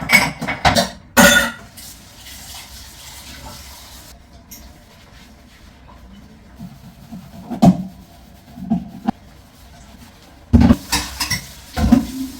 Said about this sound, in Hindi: यहाँ कुछ तो बर्तन भी धो देते हैं।